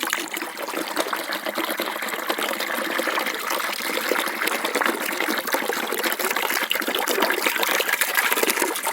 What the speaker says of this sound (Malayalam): അപ്പോൾ ഇത് മുഴുവൻ ഇതിൻ്റെ അകത്തോട് ഒഴിക്കുക.